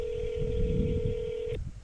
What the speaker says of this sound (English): It's ringing.